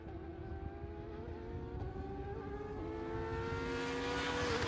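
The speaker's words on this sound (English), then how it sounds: "Just listen to those flat sixes at speed" Porsche 911 (991.2) GT3 flat-six race cars at speed on a race circuit, a sustained harmonic engine whine that grows steadily louder as the cars approach, with no talk over it.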